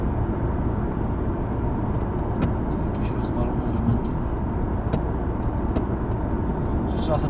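VW Passat B8 Variant estate with a 1.4 TSI 150 hp petrol engine cruising at about 70 km/h on city roads, with a steady, loud road and engine drone inside the cabin and a few soft clicks over it.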